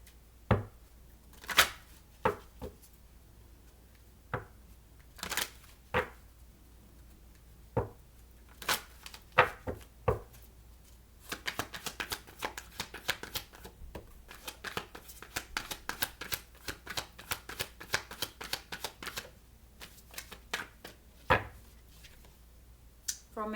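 Tarot cards being shuffled and handled in a series of sharp, irregular riffling and snapping bursts, with denser flurries midway, close and fairly quiet with no talking.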